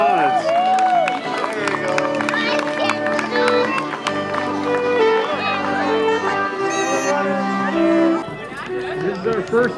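Large outdoor crowd claps and cheers steadily at a half marathon finish line, the applause sustained and fairly loud with chatter and a voice over a PA mixed in throughout.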